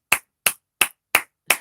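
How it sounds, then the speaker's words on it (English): Five sharp, evenly spaced hand claps ring out close and clear, each a crisp isolated slap with silence between them, like a slow deliberate round of applause from a single person. "Let's give him a round of applause."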